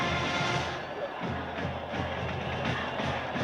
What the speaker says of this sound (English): Notre Dame fans cheering for Florida State in this situation